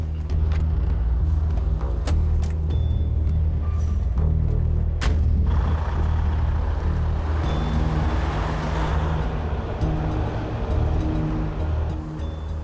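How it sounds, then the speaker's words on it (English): The HR 116 heavy wrecker truck runs with a loud, deep, steady engine rumble close by, a few sharp clanks and knocks early on, then broad rushing noise as it pulls away. "Jamie gets ready to take the last modern wrecker in his fleet, HR 116, for a drive."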